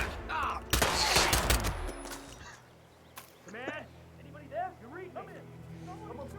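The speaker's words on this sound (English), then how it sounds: "starting to hear gunshots over from the game" Gunfire from the video game Hitman 2: a dense, loud burst of rapid shots near the start, fading into scattered quieter game sounds while people talk over it.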